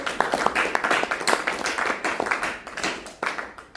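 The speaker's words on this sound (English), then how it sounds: "give the Skits Marines a hand of applause, round of applause" A round of applause from a class audience, steady dense hand clapping lasting a few seconds, fairly close and loud, with no talking.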